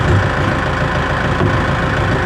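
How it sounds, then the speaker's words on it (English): A 91 horsepower Kubota tractor engine runs steadily, a loud, close, throbbing low rumble with a constant drone and no talk. "91 horsepower Kubota tractor."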